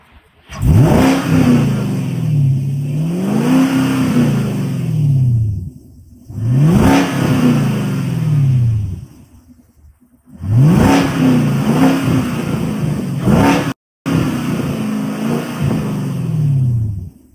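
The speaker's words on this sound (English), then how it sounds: "Let you see how my car sound." A car engine revs hard in three long bursts, each climbing and falling in pitch, loud and close with short idle gaps between, no talking.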